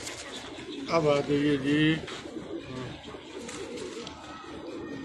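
Rampuri pigeons coo in a short throaty burst close by, then softer murmuring continues beneath a voice speaking over the birds.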